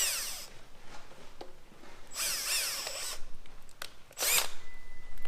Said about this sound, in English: I put too much silicone on it, so I'm drilling a hole